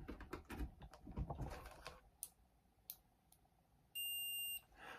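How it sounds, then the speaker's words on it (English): A sustained electronic continuity beep from a cheap $2 multimeter sounds for about a second, following scattered clicks and taps of handling equipment. "It beeps."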